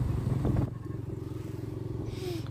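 A Kawasaki Barako 3 motorcycle runs along with a steady low single-cylinder engine putter, close and continuous, with a brief clatter and a rise in engine note near the start.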